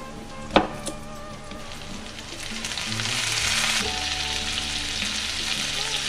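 Butter and lemon sauce sizzles and fries steadily in a pan, loud and continuous, with a brief clink of utensils near the start and the sizzle swelling slightly as it goes.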